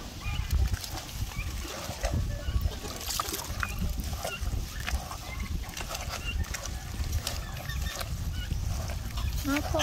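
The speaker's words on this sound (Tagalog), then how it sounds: "ang una nating papakainin nito ay yung mga pabo natin. Dahil maingay na sila, nagugutom na" A flock of hungry turkeys on a farm calls noisily before feeding, overlapping honking gobbles bursting repeatedly at close range over a busy background.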